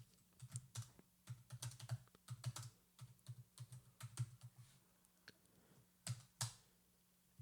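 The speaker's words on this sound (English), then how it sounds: "I'm going to type here, just like the example invoice, total of this invoice." Close, quiet typing on a computer keyboard while entering spreadsheet data in Microsoft Excel, irregular clusters of key clicks with short pauses between bursts.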